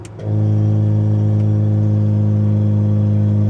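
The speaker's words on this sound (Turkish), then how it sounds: "Bir egzozu açalım mı? Olur açalım." A tuned Honda Civic 1.6 Turbo VTi engine with its exhaust cutout open, starting up and settling into a loud, steady, deep idle rumble that holds close and unbroken throughout.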